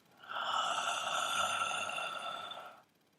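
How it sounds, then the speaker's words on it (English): Slow Sushumna pranayama inhalation in Kriya Yoga with the windpipe slightly closed, a single steady hissing, ocean-like breath lasting about two and a half seconds, close and fairly quiet, with no speech. "We're inhaling and we're closing the windpipe slightly."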